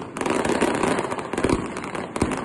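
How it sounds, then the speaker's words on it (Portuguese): Fireworks burst over Manaus at night, a dense, continuous crackling barrage with several heavier booms, loud and sustained with no voices over it. "os fogos de artifício começaram a explodir nos céus da cidade"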